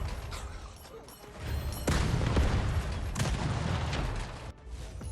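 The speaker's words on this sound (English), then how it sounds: "We'll just have a rocket launcher on our back, too." Rocket launcher fire in the video game R.I.P.: Reincarnation Insurance Program, with several loud booming blasts and heavy gunfire-like bursts over a dense, continuous rumble of game noise.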